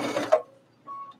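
Sewing machine stitching binding onto a quilt: a short close run of motor whirr and needle clatter, a stop, then a brief high hum as the machine pivots, with no voices.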